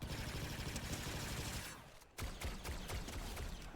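Rapid bursts of gunfire in the video game Fortnite rattle continuously, a dense fusillade that briefly falls quiet before sharp shots resume, heavy and close.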